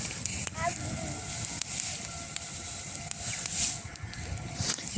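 Outdoor fire roasting potatoes crackles and sizzles at a moderate distance, sharp pops scattered over a steady hiss, with faint animal or bird calls in the background.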